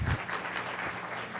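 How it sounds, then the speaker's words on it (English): Audience members clap together at a township meeting, a short burst of dense, steady applause heard close and fairly loud. "I really appreciate it if there was less applause in between every statement."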